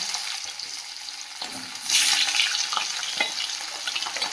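Large sea fish frying in a pan, a steady hiss that swells louder partway through, with faint scrapes and clinks of cookware and no voices.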